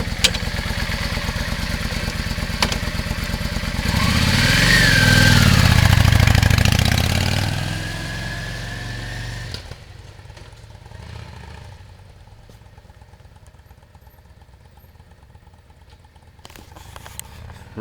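A Yamaha V-Star 650 motorcycle runs close by, swelling into a louder, deeper engine roar for several seconds, then settling back to a quieter, steady idle.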